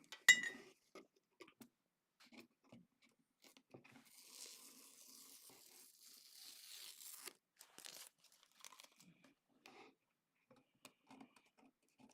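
Masking tape peeled slowly off watercolor paper, a faint dry ripping stretch in the middle, surrounded by scattered soft clicks and light handling taps in a quiet room.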